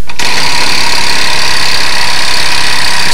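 Small scale live steam engine running on compressed air from a hose, a loud steady hissing and chuffing drone that starts abruptly and carries on evenly up close.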